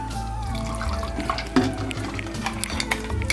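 Water poured into a mixer grinder jar to rinse out almond paste, heard as a continuous splashing pour with sloshing and clinks of the jar, close and fairly loud throughout.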